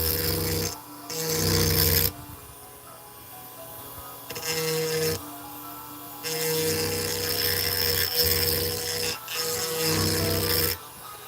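A file scraping a burr off an edge at a workbench, long rasping strokes that come in bursts with short pauses between them, close and alone.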